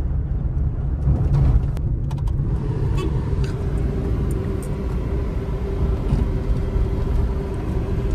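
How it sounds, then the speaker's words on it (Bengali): Car driving along a road with a family on board, heading to a Charak Puja festival; a steady low engine and road rumble throughout with a few faint rattles and clicks inside the cabin. "আর আমার বাবাজি ড্রাইভিং করতেছে"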